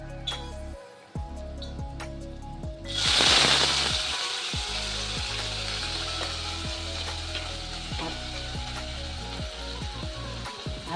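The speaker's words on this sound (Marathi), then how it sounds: "तेल टाकल्यानंतर आपण याच्यात हा बारीक चिरलेला कांदा टाकून घेणार आहोत." Finely chopped onion hits a little hot oil, breaking into a loud, close sizzle that stays bright and steady with occasional stirring clatter.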